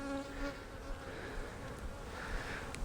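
Honey bees buzz around swapped hives at a beekeeping yard, a steady close drone of many insects with individual bees flying past.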